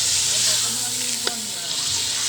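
A steady close sizzle of native chicken frying in a pan, with stirring movements and one sharp utensil tap midway, continuous and without speech.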